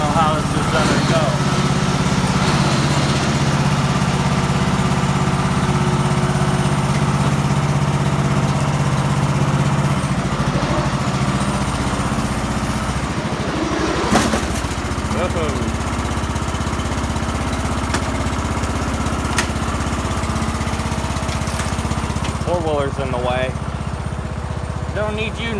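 A homemade racing lawnmower's engine runs steadily at idle throughout, a loud, close, continuous drone with brief clicks and knocks, while people talk over it.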